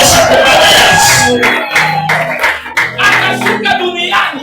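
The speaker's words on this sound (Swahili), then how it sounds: "Piga makofi na vigelegele." A church congregation bursts into loud clapping mixed with high trilling ululation and shouts, sustained and close, with a voice calling over the crowd.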